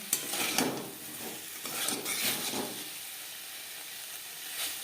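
Cauliflower fry (fulkopi bhaja) stirred in a pan over a high gas flame, with a soft sizzle and a few scraping strokes that taper off into quieter hiss.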